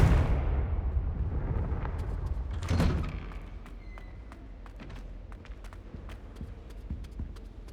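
A Confringo fire spell explodes in Hogwarts Legacy with a loud rumbling blast that starts at once, swells again briefly, then fades into a low roaring tail dotted with sharp crackles and debris ticks.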